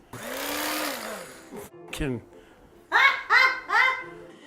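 A knife shreds a whole cabbage with a steady, whirring buzz for about a second and a half, then stops. Voices talk and laugh afterward.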